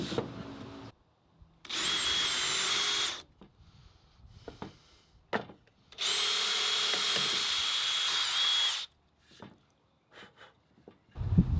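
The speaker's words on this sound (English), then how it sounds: "Now that I've drilled these pilot holes out" A power drill whines in two sustained bursts with a steady high pitch, drilling pilot holes in wood while building a stool, close up, separated by clattering and handling noises.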